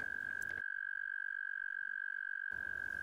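Male toads in a spring pond give a single steady, high-pitched trill that holds unbroken for the whole stretch, loud and continuous.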